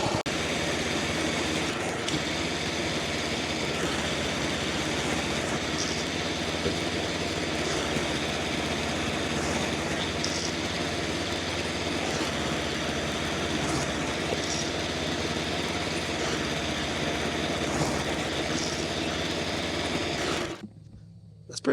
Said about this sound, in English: First pull Honda.